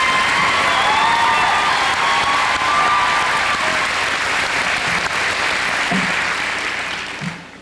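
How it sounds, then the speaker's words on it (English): Sustained applause with some cheering from a crowd of students at a 2002 high school graduation ceremony, greeting the incoming principal; steady, dense clapping that fades slightly toward the end. "it's great when a bunch of kids can applaud and cheer for their assistant principal"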